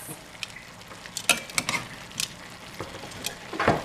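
Pork chops sizzle in a skillet with bacon, apples, potatoes and cabbage, a busy crackling fry with scattered clinks and scrapes from the pan.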